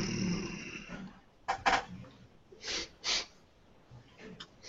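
A human voice imitates a hunting wolf sniffing, giving short breathy snorts and sniffs in uneven bursts, close and fairly quiet, with a brief snort-like sound at the start.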